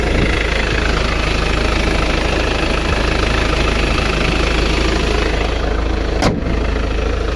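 A 2,500cc diesel engine in a 1996 Mazda B2500 pickup idles close by, a steady rumbling, constant clattering drone with one brief click near the end.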